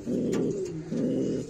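Racing pigeons in a breeding loft give two steady, close cooing phrases, low and throaty, with a short dip between them and no voices.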